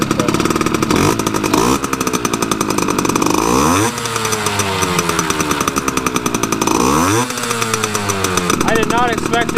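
A barn-find Yamaha RX50 two-stroke motorcycle engine runs loud and close after its first start, buzzing continuously with rising and falling revs and repeated throttle blips.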